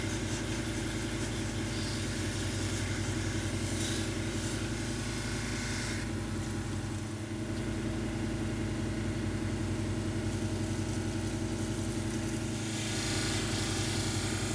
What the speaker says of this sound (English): here on the 1200 wheel, it's just more of the same, just removing scratches from the previous wheel